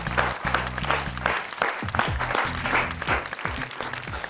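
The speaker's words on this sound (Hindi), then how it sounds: "जोरदार तालियों से स्वागत करते हैं वेद प्रकाश वेद।" Applause from a crowd welcoming a poet to the stage at a shayari and ghazal performance, steady and fairly loud throughout over a low tonal musical hum.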